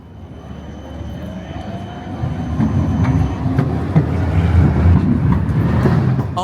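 An Amsterdam tram on a narrow street rumbles past nearby, its low rolling noise swelling louder over several seconds, with a faint high whine and metallic squeaks.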